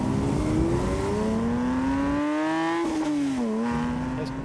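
A Porsche 911 GT3 Touring in sport mode pulls hard from inside the cabin, its engine climbing steadily in pitch, dipping briefly as it shifts, then rising again, loud and sustained throughout.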